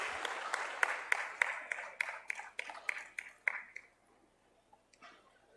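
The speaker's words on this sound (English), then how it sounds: "A loud round of applause, ladies and gentlemen" A small audience at a startup event claps in a brief round of rhythmic, fairly distinct claps that thin out and stop after about four seconds, followed by near silence with a few faint taps.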